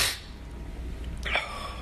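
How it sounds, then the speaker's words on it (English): One sharp, close sneeze bursts out at the start, followed by a quieter breath and a faint vocal sound a moment later, in a quiet indoor room. "Why am I sneezing again?"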